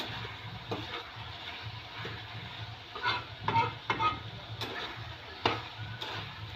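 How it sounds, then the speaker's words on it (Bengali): Bathua greens frying in a pan in a home kitchen, a steady soft sizzle with intermittent scraping stir strokes growing louder midway, no talk. "এটা শাক ভাজবো, বেতো শাক ভাজবো"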